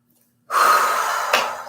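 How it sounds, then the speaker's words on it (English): One deep inhale during an exercise session, a close, airy breath drawn in steadily for about a second after silence, with a slight catch near the end. "And one big inhale up."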